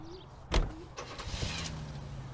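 A 1950s Mercury Custom car in the video game L.A. Noire, heard as a sharp door thunk followed by a steady low engine idle and mechanical whirring, close and alone.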